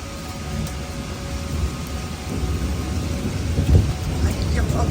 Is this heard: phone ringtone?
no